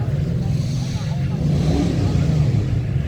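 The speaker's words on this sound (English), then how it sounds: "Let's rev up. Start your engine." Muscle car engine rumbling at a car weekend event, a loud steady low throb close by with a faint rise in revs, with people talking over it.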